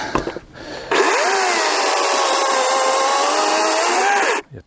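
A DeWALT FLEXVOLT battery-powered electric chainsaw, carrying a GoPro, bites into a mix of dry, green and slightly rotten wood, a loud steady whining cut lasting several seconds after a short lead-in, then stopping abruptly.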